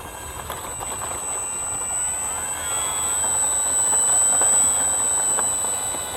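FMS Mustang P51D model plane taxiing on the ground after a grazed-wing landing, its electric motor giving a steady high whine with a faint rising and falling pitch, close and continuous throughout.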